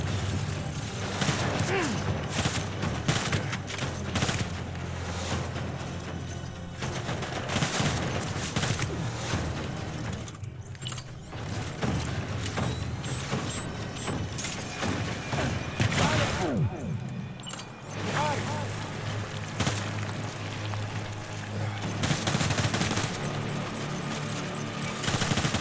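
Gunfire in the video game Death Stranding: dense, sustained automatic fire and rapid shots, with occasional heavier booms, loud and nearly continuous throughout.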